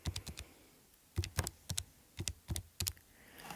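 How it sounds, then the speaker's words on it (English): Fingers tap out figures on calculator keys, giving quick light clicks in short bursts separated by brief pauses, close and fairly quiet with no talking. "I would just type that into my calculator"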